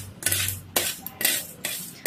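Black urad dal toasting in a pan makes a scraping rattle as a metal spoon stirs it, in about four short close bursts with no talk.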